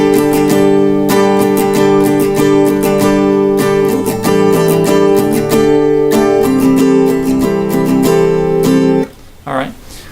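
Acoustic guitar strumming a steady pattern, rhythmic chord strokes ringing close and loud, ending with a short muted rustle.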